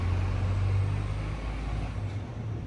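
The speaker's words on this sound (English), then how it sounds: "The noisy truck." A loud, noisy truck rumbles past close by with a heavy low drone that fades toward the end, with no talking over it.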